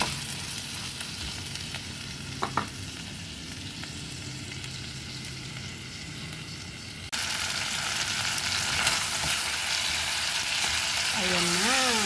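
Pork cubes sizzle in a hot pan for a mung bean sauté, a steady broadband frying hiss that grows louder partway through, with no talk over it.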